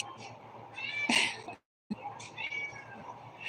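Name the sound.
pet cat meowing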